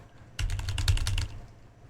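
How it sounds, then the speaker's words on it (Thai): Rapid clatter of computer keys being typed, a dense burst of keystrokes close up lasting under a second, with no voices. "เสียงคีย์บอร์ดผม"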